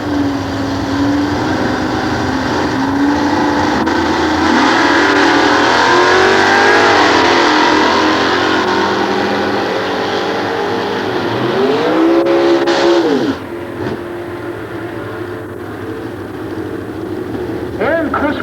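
A 1932 sedan at a nostalgia drag race at Sears Point, its engine roaring loud and raw in the left lane, rising and swooping in pitch before cutting off, with a second engine note faintly after.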